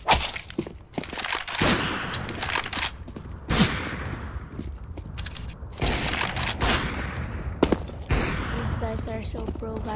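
Rapid bursts of gunfire crackle in quick succession in Counter-Strike: Global Offensive competitive mode, loud and close, with metallic clanks and pings between volleys in a busy game soundscape.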